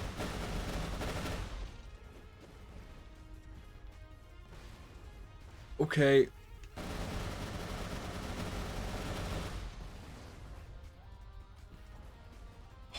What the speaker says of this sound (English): Check this rocket launcher out.